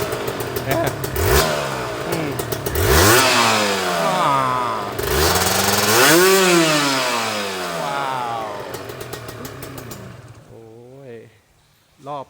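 A freshly assembled Serpico 150 SST motorcycle starts and is revved hard again and again, its engine note sweeping up and down up close, then dropping away before a few quick final blips.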